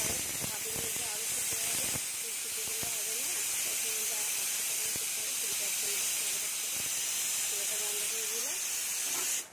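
Rice water simmering gently in a pot while beef biryani is prepared, a steady soft hiss and bubbling of light boil, close and continuous, with faint clinks now and then.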